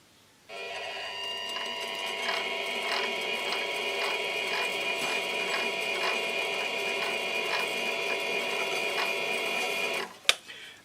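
A machine winds kiln element wire into a tight coil with a steady whirring, rhythmically clicking mechanical drone for about ten seconds, close and even, ending in a sharp clack.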